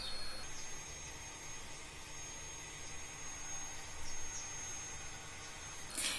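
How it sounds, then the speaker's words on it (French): A vacuum cleaner running outdoors in a garden, a steady faint whooshing hum with a thin high whine, continuous and distant throughout with no speech. "Excuse-moi si t'entends un bruit de quelqu'un qui passe l'aspirateur dans le jardin."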